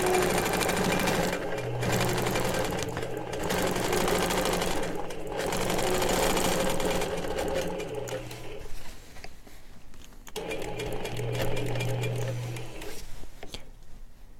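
An Innova longarm quilting machine stitches in the ditch with fine 80-weight thread, a steady close mechanical whir and rapid needle patter that runs almost continuously, with brief slowdowns, and no talking.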